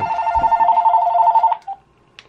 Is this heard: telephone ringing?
yes